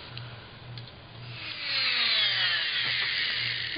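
High-pitched whine of a Dremel rotary tool roughing up thin metal hardware, rising in intensity partway through and continuing steadily, close by.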